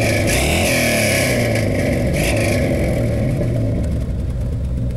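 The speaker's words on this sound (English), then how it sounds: "go ahead and blip the gas just a little bit" A 1948 Ford F1 mud truck engine, fitted with a 9-inch Ford rear end, rumbles loudly and steadily at close range with a few brief revs as the throttle is blipped, heard alone without talk.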